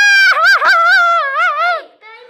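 A dog howls close up in long, wavering, high-pitched tones, rising and falling for about two seconds before a shorter final whine.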